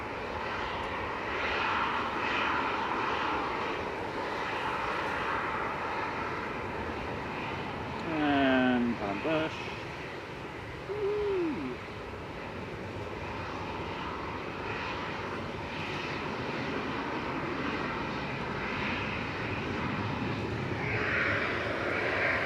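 An easyJet Airbus A320 Classic departing for Corfu produces a sustained, moderately distant jet roar, with a few short bursts of talk and other noises over it partway through.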